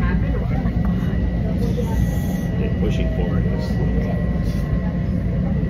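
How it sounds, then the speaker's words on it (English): Loud, constant rumbling and rattling of a train in motion, with jolts and clunks throughout and a brief spoken word over the noise. "We're on the train! There's so much bumps."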